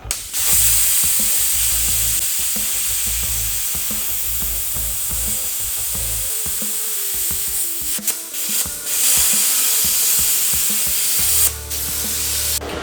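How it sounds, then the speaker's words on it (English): A Silatu STC550P plasma cutter slices through half-inch thick metal with a loud, steady hissing roar that runs nearly the whole time, dipping briefly midway before resuming at full strength; no one speaks. "1/2 inch is pretty thick metal, but either way, the machine did cut it."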